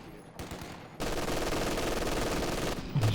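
MG42 machine gun fire in Company of Heroes 2 breaks into a sustained rapid burst after a quieter opening, loud and continuous for nearly two seconds, followed by a brief trailing sound.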